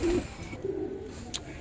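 Pigeons, including imported Dubai birds kept by a fancier, cooing softly nearby, a couple of low, short throaty calls against a quiet background.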